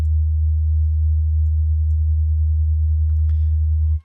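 A steady sine tone run through the Fruity Chorus stereo effect in FL Studio hums low and loud without a break, then stops abruptly at the end, with faint higher chirps slipping in near the close.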